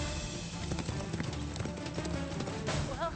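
Horses running across open ground outdoors, a steady rapid clip-clop of hooves under wind and ambient noise, with a brief human voice near the end.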